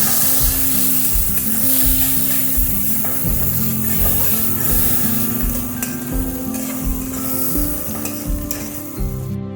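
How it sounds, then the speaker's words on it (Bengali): Chopped onion and green chilli fry in hot mustard oil with whole spices, a steady close sizzle broken by repeated scraping and stirring strokes in the pan, with no talking. "পেঁয়াজটা একটু ভাজা ভাজা করে দেবো।"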